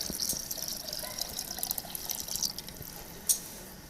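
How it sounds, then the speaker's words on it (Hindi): Milk poured into sweetened yogurt in a bowl for lassi: a faint, continuous liquid trickle with light drips and one small splash near the end, close and quiet, with no talking. "हम इसमें दूध डालेंगे"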